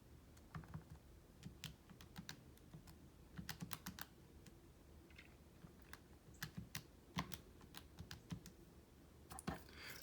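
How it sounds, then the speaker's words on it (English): Quiet, irregular clicks of calculator keys being pressed, coming in short bursts with pauses between, close by in a quiet room. "I'm typing it in the calculator."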